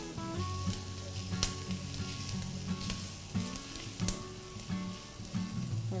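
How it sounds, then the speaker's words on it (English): Onion and curry sizzle steadily in a pan, a continuous close frying crackle with occasional sharp pops and soft stirring, under a faint background hum. "And then you cook the onion with the curry for about"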